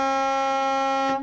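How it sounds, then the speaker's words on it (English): An air horn on a 2022 Renegade Verona 40VRB motorhome gives one loud sustained blast of a little over a second, steady in pitch and rich in harmonics, cutting off abruptly at the end. "got your air horn."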